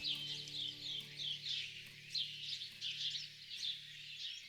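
Small birds call and chirp in Nepal's forest, steady repeated high chirps overlapping throughout, moderately near, over a faint low background hum.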